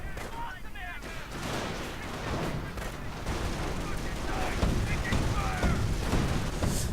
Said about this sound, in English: opening up with the Panzers right there, firing away a full nice volley